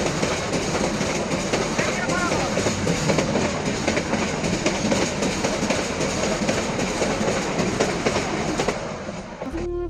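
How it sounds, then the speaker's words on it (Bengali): A train rumbles past close by on a railway line, giving a loud, steady roar of wheels with rhythmic clickety-clack that lasts throughout and cuts off near the end. "রাস্তার সামনে যাওয়ার সাথে সাথে ট্রেন চলে আসলো।"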